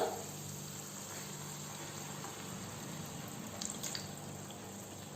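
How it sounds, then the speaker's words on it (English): Water runs and splashes steadily into a cooking pan for several seconds, a close, continuous pouring sound with no voices. "I am just adding half a glass of water"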